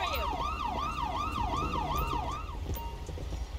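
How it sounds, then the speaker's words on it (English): An ambulance siren in the video game GTA V wails in a fast, regular rising-and-falling cycle, loud and close, then cuts off and leaves quieter background noise. "Here comes the ambulance."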